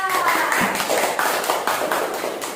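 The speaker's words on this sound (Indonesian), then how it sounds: "tepuk tangan dulu untuk Siva" A class of students claps for a classmate in a guidance counselling lesson, a short spell of close, brisk clapping with irregular sharp hits and a voice briefly audible beneath.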